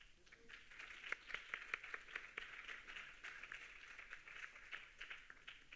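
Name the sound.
applause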